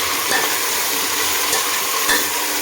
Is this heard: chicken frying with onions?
yes